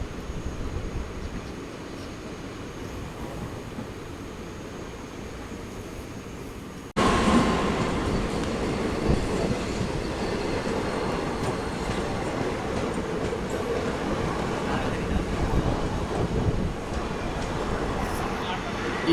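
The Intercity Superfast Express runs along its track with a steady rolling rumble and wheel clatter. The sound is quieter at first, then jumps louder and closer about a third of the way in and holds a continuous roar.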